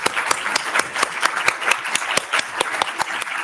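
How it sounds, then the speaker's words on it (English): Panel audience applause for the speakers at an open data governance conference, a dense round of clapping throughout, fairly close and steady with slight swells. "let's give a round of applause to our speakers today"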